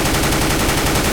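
A gun sprays continuous automatic fire in a video game, a dense, rapid, loud burst of shots with recoil that fills the whole moment without pause.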